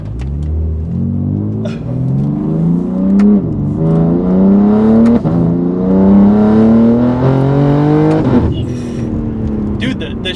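A loud BMW G80 M3 engine revs up through the gears, pitch climbing then dropping with each shift, a deep rumbling roar close inside the cabin.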